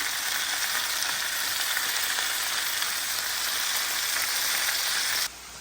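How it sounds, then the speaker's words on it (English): Chicken and broccolini sauté in a hot pan with a steady, bright sizzle that hisses evenly and close, continuing unbroken until it quiets abruptly near the end. "While that is sauteing and getting nice golden brown"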